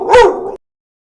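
A single indoor dog, upset at kids running up the stairs, lets out a short sharp bark that trails into a whimper, close and loud, then silence.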